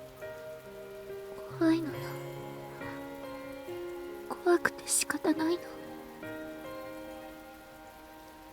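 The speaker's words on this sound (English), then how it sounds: "I can hear the faint sound of water cutting through the air" Rain falls steadily in the visual novel game The Fruit of Grisaia, a soft, even patter that continues beneath a voice speaking quietly in Japanese.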